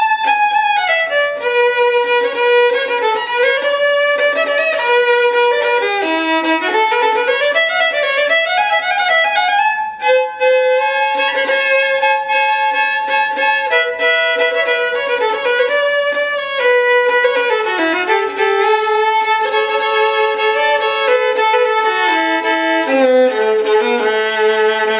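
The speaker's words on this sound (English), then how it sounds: "when I play this violin, it sounds like the tone is coming" A German master-made Guarneri-model violin from 1880 plays a sustained melodic passage, bright and resonant bowed notes with gliding pitch changes, close and clear, alone without any talking, with a brief pause midway.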